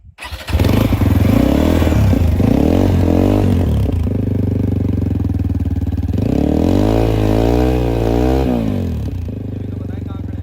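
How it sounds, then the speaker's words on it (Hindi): A motorcycle engine idles and revs loudly up close on a rocky mountain road at Gorakh Hill, its throbbing note rising and falling in waves, with voices talking over it. "बाइक की आवाज़ में सुनवाता हूँ आपको"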